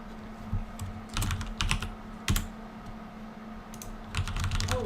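Close computer keyboard typing comes in uneven bursts of clicks, with short pauses between the flurries.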